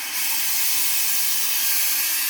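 A steam iron lets out a steady, loud hiss of steam, continuous and close, with no voice over it.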